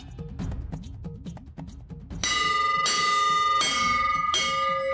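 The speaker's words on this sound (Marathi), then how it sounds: "अरे राजवीर, शाळा चालू आहे ना, मग घंटी नाही वाजवायची." A hand bell is rung loudly in a school setting, with sharp metallic strokes clanging in quick repetition after a stretch of low rhythmic background noise.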